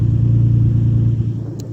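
A Nissan 350Z with a Z1 Motorsports Y-pipe idles and revs, giving a loud, deep exhaust rumble close by that holds steady and then eases off slightly.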